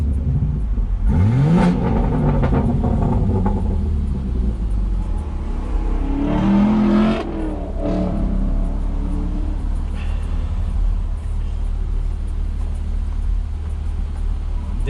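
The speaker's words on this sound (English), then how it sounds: "Let's check out some exhaust clips." BMW G80 M3 fitted with catless downpipes, its exhaust revving hard in a couple of rising bursts before settling into a loud, rumbling idle close by.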